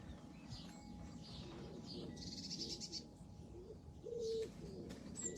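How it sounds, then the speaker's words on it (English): Pigeons nesting in a garden hedge coo softly in the distance, with faint chirps from other birds in a quiet morning background. "I have pigeons that nest in this hedge there."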